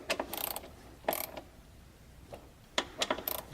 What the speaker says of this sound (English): I'm going to work in a crisscross pattern here to tighten these bolts down